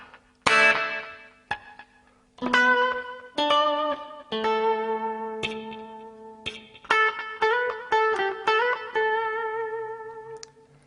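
Electric guitar plays a slow winding-down outro passage of a song in picked notes and ringing chords, each left to sustain and fade, with a clean effected tone.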